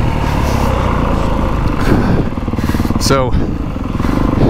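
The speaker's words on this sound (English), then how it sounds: "quick buddy ride, 24 CRF450 Works Edition" A 2024 Honda CRF450 Works Edition dirt bike running and being ridden: a loud, steady engine drone close by with rising revs, mixed with a voice talking.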